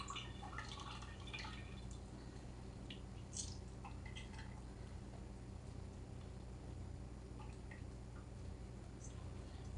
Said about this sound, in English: I'm gonna get the butter and squeeze out the buttermilk